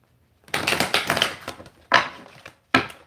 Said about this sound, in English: Okay, one last shuffle there